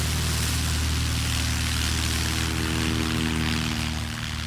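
STOL airplane at a Music City STOL competition in Gallatin, Tennessee, its propeller engine running at full takeoff power, a loud, steady droning roar with a low harmonic buzz that holds throughout without voices.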